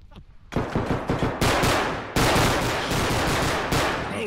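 Rapid automatic gunfire erupts in bursts in a realistic shooter video game, loud and close, with a near-continuous stream of shots after a quiet opening and a sharp renewed volley midway.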